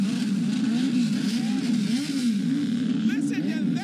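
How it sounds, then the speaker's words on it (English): Small race cars idle and rev together at a Winter Nationals track in Florida, a loud, continuous engine drone that rises and falls in pitch, with voices faintly underneath. "they may be small cars, but they're big on sound"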